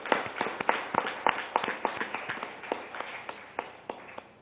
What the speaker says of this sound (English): So let's give a round of applause to all the elected companies.